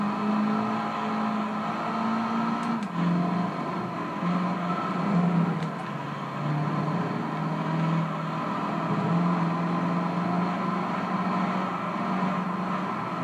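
Racing car engine droning steadily around a track in Gran Turismo Concept 2002 Tokyo-Geneva on the PS2, pitch rising and dipping through gear changes, loud and continuous with no talk.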